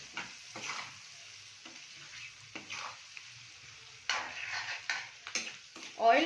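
Egg, onion and pepper fry being stirred in an oily pan, intermittent scraping and sizzling bursts with occasional utensil clinks, growing louder toward the end.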